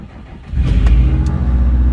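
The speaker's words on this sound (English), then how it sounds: "Now let me try to start it." A Subaru car engine cranks briefly, then catches and settles into a loud, steady idle close by, with no talk over it.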